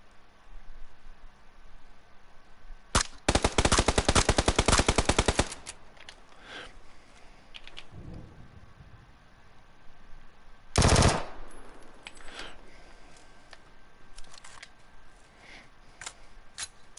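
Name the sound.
gunfire in a video game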